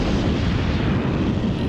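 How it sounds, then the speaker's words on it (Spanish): Massed World War I mortar and artillery fire along the whole front, a dense continuous rumbling roar of overlapping blasts at steady high loudness with no distinct single shots. "500 morteros dispararon simultáneamente por todo el frente"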